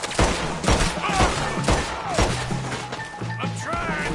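Gunfire in a Red Dead Redemption 2 shootout around a wagon, with rapid overlapping shots, cracks and impacts in a dense, loud barrage throughout.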